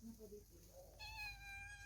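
A cat meows close by, a short bright call with clear rising harmonics that rings out after a brief murmur of a person's voice, set against a low background rumble outdoors.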